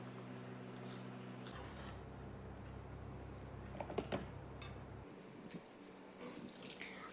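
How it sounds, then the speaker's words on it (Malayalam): Chopped mushrooms are washed under a running kitchen tap for a mushroom chicken rice dish, with a steady rushing stream of water splashing in a sink, quiet and close, and no talking. "നന്നായിട്ട് കഴുകി അതിലെ വെള്ളം, ജലാംശം ഇങ്ങനെ പിഴിഞ്ഞ് കളയണം."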